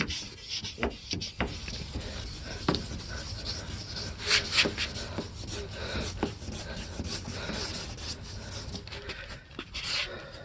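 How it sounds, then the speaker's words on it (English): A green scouring pad scrubs a car headlight in quick back-and-forth strokes, a close, gritty rubbing with uneven rhythm and brief pauses between passes, no talk over it. "I'm gonna go ahead and scrub it back with the green again."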